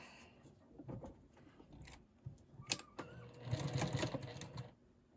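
Sewing machine stitching a fabric seam while quilting, heard as short bursts of mechanical whirring between quiet handling noises, then a longer, louder run of stitching near the end.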